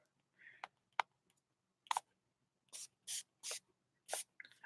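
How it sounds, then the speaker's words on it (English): Several short hissing bursts of paint from a spray bottle onto paper, irregularly spaced, with a few light clicks of the trigger between them, close and fairly quiet. "I'm not going to spray it as strong."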